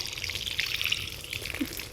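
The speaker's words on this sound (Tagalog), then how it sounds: "Mahina yung tubig namin ngayon." A weak trickle runs from a household tap, a light, continuous splashing and dribbling that stays close and fairly soft throughout, with no voices.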